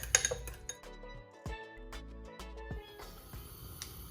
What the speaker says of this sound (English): Mix it well with a fork.